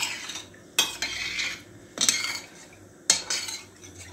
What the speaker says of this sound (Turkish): İrmiği döküyorum arkadaşlar bu şekilde. Hemen önce bir güzelce karıştırıyorum.